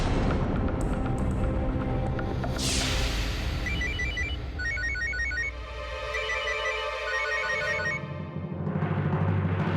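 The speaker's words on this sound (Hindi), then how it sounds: "चौधरी साहब, घर से फोन है" A telephone rings in short repeated electronic trills amid a loud, dense backdrop of dramatic music and rumbling effects.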